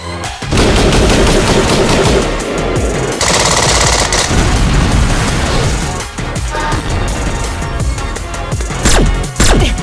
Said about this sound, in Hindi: Michael shoot.